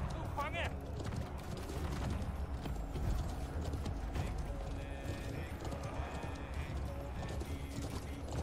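Horse hooves drum in a steady clip-clop gallop in the medieval battle game Conqueror's Blade, loud and continuous amid clanking mechanisms and battle noise, with someone talking over it.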